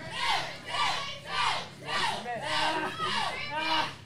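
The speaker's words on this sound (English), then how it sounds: "This crowd is absolutely in fuego." Wrestling arena crowd cheering and chanting in steady rhythmic surges, about six swells over a few seconds, a loud dense mass of voices during a submission hold.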